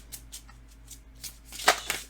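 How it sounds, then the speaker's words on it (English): Tarot cards being shuffled by hand: a string of soft papery riffles and flutters, quiet and close, building to a louder burst of card slaps near the end, with no talking. "Let's shuffle again."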